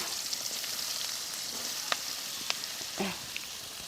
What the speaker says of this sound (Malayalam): എണ്ണ ചൂടായിട്ടുണ്ട് നമുക്ക് ഈ ഉള്ളി ഇട്ട് കൊടുക്കാം